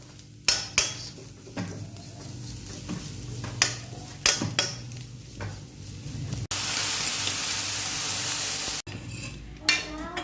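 Milk being stirred into grated coconut roasted in ghee in a pan, with scraping spoon strokes over a soft sizzle, a loud steady hiss in the middle, and no talk.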